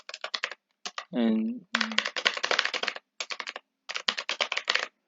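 Rapid bursts of typing on a computer keyboard while entering data by hand, close and crisp clicks in uneven runs with brief pauses, and a short spoken word partway through.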